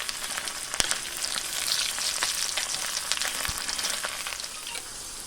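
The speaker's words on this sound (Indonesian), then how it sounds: "ya cuma goreng-goreng lah" Food sizzles and fries steadily in a pan at a forest campsite, a dense continuous crackle with occasional sharper pops and stirring, close and fairly loud with no talk.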